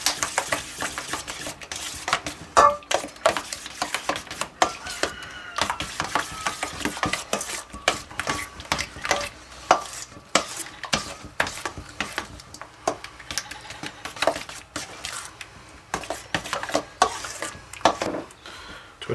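Sour cream and mushroom mixture is stirred briskly in a bowl for a burrito casserole, giving a run of rapid, irregular scraping and clicking strokes close by, loud and busy throughout.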